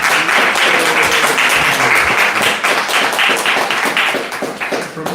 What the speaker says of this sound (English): let's give a big round of applause to welcome him